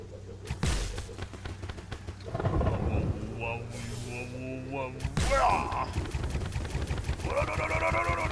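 Thunder rumbles through a Terraria game session, low booming swells with rain-like noise under game sound effects and someone talking.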